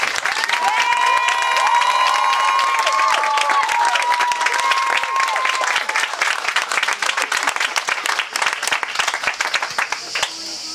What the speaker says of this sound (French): quelques petits applaudissements s'imposent pour les autres qui nous ouvrent les portes de ce si bel endroit